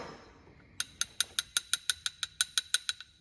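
A socket wrench ratchets about a dozen times in a steady, even rhythm, each click crisp and close, during a Jeep rock light install.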